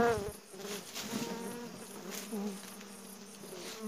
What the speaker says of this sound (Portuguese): Tem uma pelota de abelha nas suas costas.